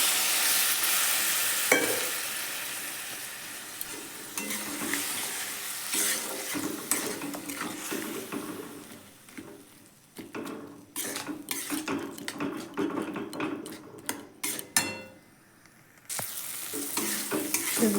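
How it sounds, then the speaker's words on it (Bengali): Ghugni gravy stirred and frying in a pan for a home-style vegetarian dish, a steady sizzle broken by repeated scraping and clinking of a spoon against the metal, fairly close, with brief quieter gaps. "আর কিছুক্ষণ কষিয়ে নিচ্ছি, অল্প হালকা জল দিয়ে দিচ্ছি।"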